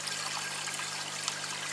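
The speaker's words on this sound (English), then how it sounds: "That's taken out all the air. That initiates the siphoning." Water trickles steadily through an aquarium siphon pipe on a mineralization tank build as the flow starts, a continuous close, moderately loud hiss and dribble with no voices.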